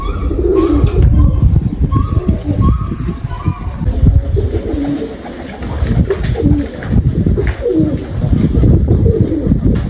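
Mykolaiv pigeons coo repeatedly at close range amid a busy, noisy background of rustling and low rumble.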